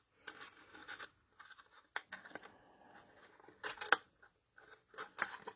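Scissors snip small trimmings of a craft piece in short bursts of crisp, close cuts, with a few sharper snaps near the end and quiet pauses between.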